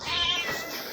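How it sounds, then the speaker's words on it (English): A cat gives one loud, drawn-out meow, close by and alone, with its wavering tone sliding downward over nearly a second. "Crammer Kitty"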